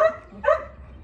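Young puppies barking nearby, a brief high yip followed by a sharper, louder bark, then quiet.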